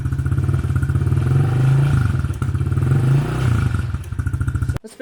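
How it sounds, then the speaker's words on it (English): A 2020 Honda CRF110F dirt bike with a Yoshimura exhaust idles inside a garage, its exhaust a loud, close, steady thumping putter that swells slightly twice before the engine cuts off near the end. "start it one more time just to show you guys what it sounds like overall, the exhaust"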